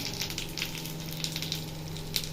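Onions, green chilies, garlic and curry leaves sizzle in hot oil for a tempering, a soft, continuous frying crackle with small pops, fairly quiet and steady.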